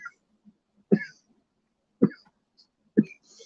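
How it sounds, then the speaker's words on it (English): Three short, sharp coughs from a nearby person, evenly spaced about a second apart with near silence between them and no talking. "Trying to type and cough at the same time."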